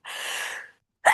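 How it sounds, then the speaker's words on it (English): A single close, breathy sneeze, followed by a short sharp intake of breath. "like I need to release with a sneeze"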